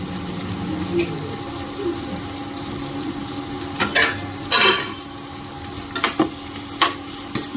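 Onion sizzles softly in a pan, a steady low fry with scattered scrapes and clinks of a spatula stirring, several sharper knocks near the middle and end; no talking.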